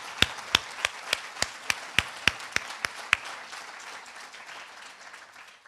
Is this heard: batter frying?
no